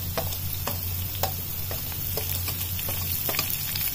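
Cumin seeds added to hot oil with dark-browned onions for a dry urad dal tempering crackle and sizzle continuously, with small sharp pops spaced through a steady close hiss.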